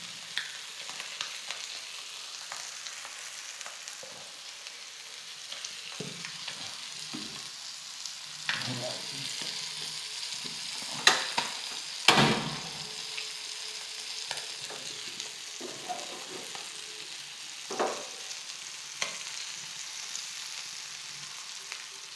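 Fresh puti fish sizzle and crackle in hot oil at close range, a steady frying hiss with scattered pops, spatula scrapes and a louder burst partway through as the fish are turned.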